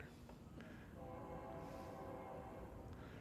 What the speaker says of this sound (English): Why does that sound like a steam train? It's the Amtrak.